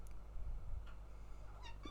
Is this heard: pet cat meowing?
yes